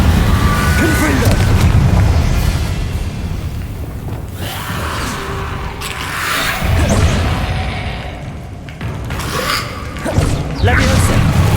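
In the Hogwarts Legacy video game, the Confringo explosive spell is cast amid battle, with booming blasts, crashes and whooshing effects over a dense game soundtrack; a character's voice cries out between impacts.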